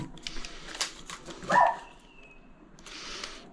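A dog barks once, fairly close and loud, amid faint indoor noise from DIY work cutting a power point hole, with a thin high tone trailing afterward.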